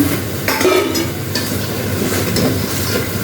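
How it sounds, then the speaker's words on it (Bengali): Sweet snacks fry slowly in oil, giving a steady, close crackle and sizzle with faint stirring throughout. "আমি ভাজতেছি আস্তে আস্তে"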